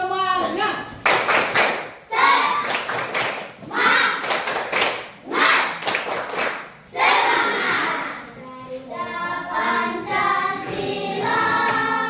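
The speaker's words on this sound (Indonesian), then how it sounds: "tepuk semangat" A classroom group claps a rhythmic spirit-clap pattern, several sharp bursts of hands in quick sets separated by brief pauses, with children's voices chanting between and over the claps.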